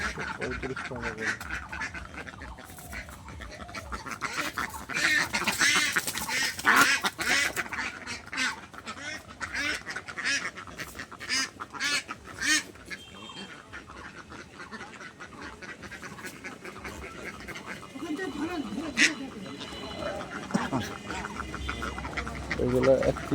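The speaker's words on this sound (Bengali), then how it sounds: "খাসি টান্ডেল হাঁস।" Ducks on a duck farm, including egg-laying birds, quack repeatedly in bursts, some close and some farther off. People talk over much of the calling.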